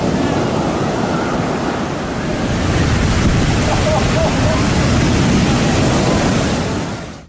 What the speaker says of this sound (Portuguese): A força das ondas é tão grande que elas mudam a paisagem da praia a cada ano